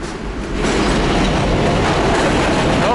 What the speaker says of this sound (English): Oh, the subway again.